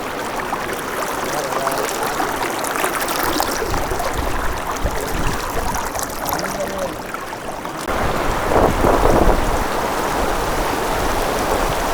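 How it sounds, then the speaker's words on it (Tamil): A large waterfall roars in a forest, a constant loud rushing wash of falling water that swells slightly louder partway through, with brief voices underneath. "எனக்கு பின்னாடி ஒரு பெரிய அருவியே இருக்குது"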